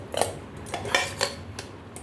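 A tiffin box packed with rice and steamed hilsa fish comes open, making a few faint, light metallic clinks and rattles in quick succession at close range in a quiet space.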